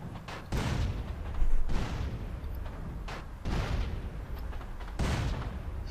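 Loud booming blasts hit about every second and a half over a constant heavy rumble, explosions going off one after another in GTA San Andreas.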